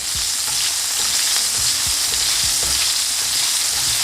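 Steady, loud sizzling of salmon frying in hot oil, a continuous crackle with faint pops throughout and no voices.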